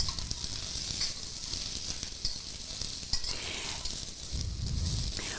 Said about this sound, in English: When you are stir frying, it is important to watch the food.